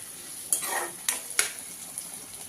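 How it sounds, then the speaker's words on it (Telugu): Onions fry in oil for mutton keema under a soft, steady sizzle. Three sharp metallic clinks of a spoon stirring against the pan stand out, and no one speaks. "మనకు ఆనియన్స్ మంచిగా ఫ్రై అయిపోయినాయి"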